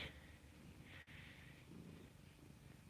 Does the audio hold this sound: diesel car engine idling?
no